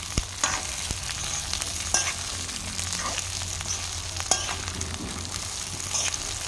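Green chillies stirred in a little hot oil in a pan for an Assamese French bean pickle, a steady close sizzle and frying hiss broken by sharp scraping clicks of the spoon, with no talking.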